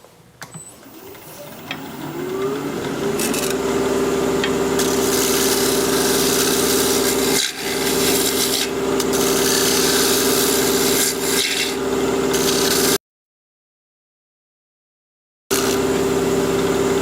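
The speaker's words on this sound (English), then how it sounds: "I'm going to sharpen up one more time." Wood turning tool sharpened against a grinding wheel while turning a live-edge hawthorn bowl, a loud steady grinding rasp that holds for most of the stretch with two brief dips and a gap of silence near the end.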